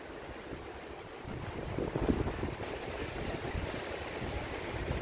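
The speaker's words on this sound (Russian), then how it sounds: "Друзья, ветер, шум от воды." Steady wind and rushing water roar in the Swiss mountains near the Devil's Bridge area, a continuous close wash of noise with heavy wind buffeting on the microphone.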